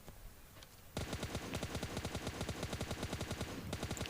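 Automatic gunfire from PUBG Mobile Lite crackles as a rapid, even burst of shots that starts after a quiet second and runs steadily to the end, fairly faint overall.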